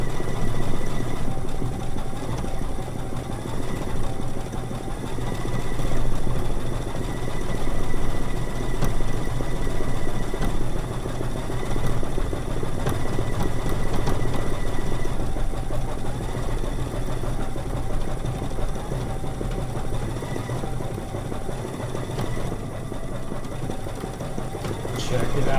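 Home sewing machine stitching a feathered satin stitch on a quilt block, a continuous mechanical whir and rapid needle chatter that runs steadily throughout, with a voice talking over it at times.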